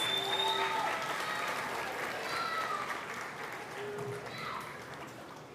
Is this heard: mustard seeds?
no